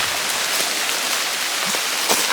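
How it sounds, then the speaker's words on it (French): Steady rain falls close by in a jungle at 7:30 in the morning, a dense continuous hiss with occasional louder drops pattering on a surface. "Il pleut."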